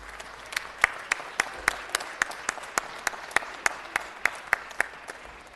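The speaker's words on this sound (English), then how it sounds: "Could we give Joanne a round of applause" Applause in a city council chamber, heard as a soft crowd wash overlaid with sharp, regularly spaced claps from one nearby person, repeating steadily about three to four times per second.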